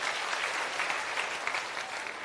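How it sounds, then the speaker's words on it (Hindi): An audience at a public gathering in a village panchayat claps together, a sustained wash of many hands at moderate volume with slight swells, no voices over it. "एक बार जोरदार ताली बजाइए"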